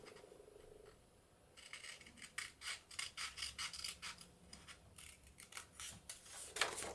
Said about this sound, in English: I'm going to cut the four corners out